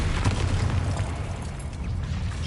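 The Bombarda explosion spell in Hogwarts Legacy on PS5 erupts as a dense, sustained blast, a loud rumbling roar that fills the whole moment without letting up.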